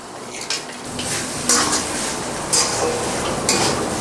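Potato filling for vegetable chops, with chopped coriander and peanuts, being mixed in a bowl: repeated clinking of a spoon against the bowl every second or so over a steady scraping, close and fairly loud, no voices.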